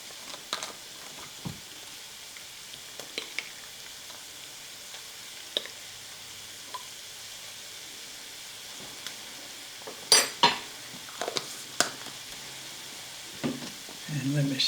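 Garlic gets stirred into browned, drained hamburger meat in a pan for American goulash, with quiet scraping and clinks of a utensil over a soft, low sizzle and scattered sharper knocks.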